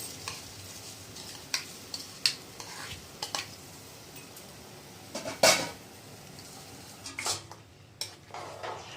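A spoon scrapes and stirs rice in a pot of boiling water for tomato rice, with a few sharp clinks and scraping strokes, over a soft steady simmering hiss.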